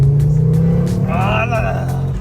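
A Ford RS engine revs hard through gear changes, rising and falling harmonic pitch sweeps over a steady loud low rumble, close by and continuous throughout.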